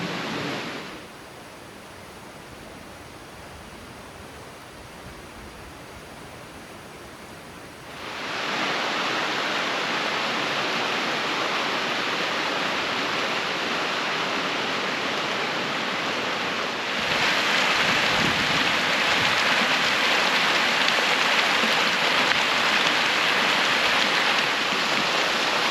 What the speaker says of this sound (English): It sounds like there's more waterfalls above